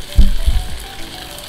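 Boiled elephant apple dropped into hot mustard oil, a sharp burst of sizzling and spattering with a couple of low thuds near the start, then a quieter steady hiss.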